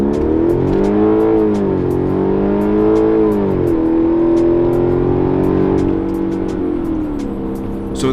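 A 2012 Hyundai Genesis 5.0 R-Spec V8 sedan with about 140,000 miles accelerates hard from a standstill in automatic mode with traction control on, its engine note climbing and dropping through several upshifts, close and loud.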